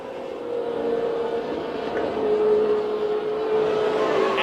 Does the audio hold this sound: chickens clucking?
no